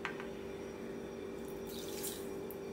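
A quarter cup of water trickles and splashes as it is poured into sugar for a cake's sugar syrup, a close, steady stream with light splashy bursts and no talking.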